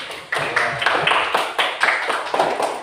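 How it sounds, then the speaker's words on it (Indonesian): Hands clapping in a steady, even rhythm, about a dozen sharp claps close by in a classroom, with no talk over them. "tepuk tangannya."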